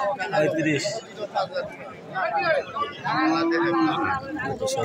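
Cows at the Atuari cattle market low and moo several times, one long drawn-out call near the end, amid a busy din of people talking and haggling close by.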